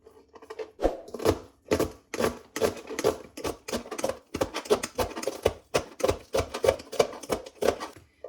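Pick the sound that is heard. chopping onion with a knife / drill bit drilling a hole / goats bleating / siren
chopping onion with a knife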